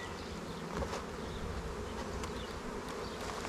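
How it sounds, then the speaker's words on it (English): A dense honeybee swarm packed inside a wooden box hums continuously at close range, a thick, even buzz with no voices. "There's a lot of bees in there."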